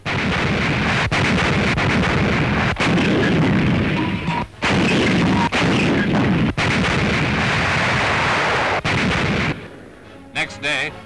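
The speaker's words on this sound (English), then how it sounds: "Next day, the naval base itself was bombarded." Naval bombardment and artillery shelling of a naval base roar as a dense, loud barrage of booms and rumbling blasts, with sharp individual impacts, before dropping to quieter scattered noise near the end.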